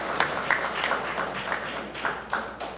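Modest, fairly quiet applause for election observers at a results tallying in Anguilla, heard as scattered individual claps over a steady hum in a hall.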